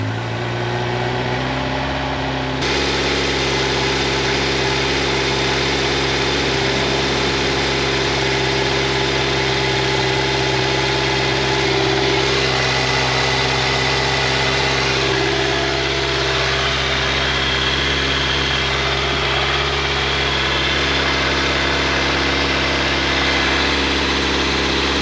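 A 2023 Kawasaki Z900 motorcycle engine starts and settles into a steady idle, a continuous close, even hum with no talking over it.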